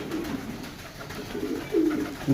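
Pigeons coo softly nearby, low throaty warbles repeating over a light background murmur.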